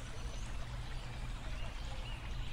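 Steady low rushing of stream water flowing continuously, a dense broadband wash with no breaks, heard alone and close.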